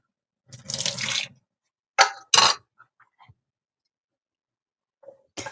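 Hot water from a kettle rinses a lemon squeezer in a splashy pour lasting about a second, followed by two short, sharp gushes and a few faint drips and clinks, close up, with no talking.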